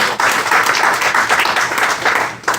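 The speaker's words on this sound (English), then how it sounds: "Give them a round of applause." Seminar audience on home ownership applauding, steady dense clapping throughout at close range, loud and unbroken with no talk over it.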